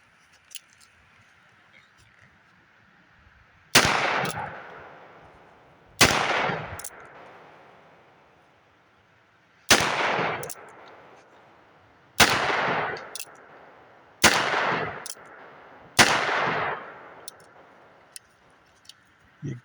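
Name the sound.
single-action 45 Colt revolver fired until empty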